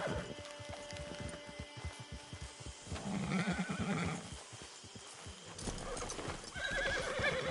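A horse whinnies and its hooves clip-clop on the ground in the video game Red Dead Redemption 2, near and clear, with a second louder neigh toward the end and no talking.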